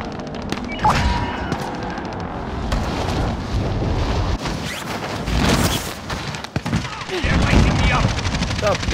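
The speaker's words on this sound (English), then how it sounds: "Who are you shooting at?" Gunfire in Call of Duty: Modern Warfare, loud automatic bursts and repeated shots mixed with booming impacts in a chaotic firefight, with voices shouting over the battle.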